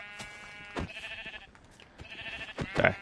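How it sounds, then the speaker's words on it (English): Minecraft sheep bleat several times in a hardcore survival game near a ruined nether portal, short wavering calls spaced through the moment with quiet gaps between them. "We have a sheep right here."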